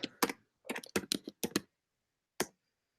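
Bursts of typing on a computer keyboard during a classroom software demonstration, several quick clusters of key clicks followed by a pause and one final keystroke, close and clear with no talking.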